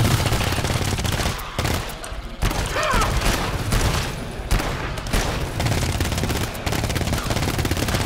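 Automated sentry turrets firing in the co-op shooter GTFO, a dense, continuous burst of rapid gunfire filling the whole stretch at close range, with brief dips and no clear talk over it.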